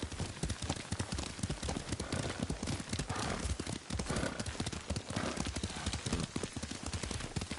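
Rapid hoofbeats from a galloping horse in a video game, steady and close, clattering continuously with a brief pause partway through.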